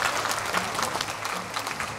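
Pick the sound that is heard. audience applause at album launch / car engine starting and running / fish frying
audience applause at album launch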